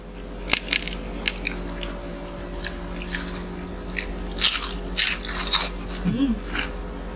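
Crisp, crunchy bites and chewing of french fries up close, several sharp crunches spread over a few seconds, with faint voices in the background.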